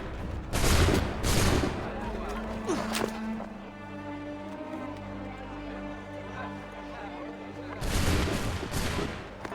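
Musket volley fire in Assassin's Creed III, ragged loud bursts of many shots at the start and again near the end, with a low rumbling battle bed and voices in between.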